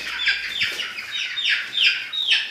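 Several chickens on a farm give repeated clucking calls about every half second to second, each a short bright descending note, fairly close with faint background noise.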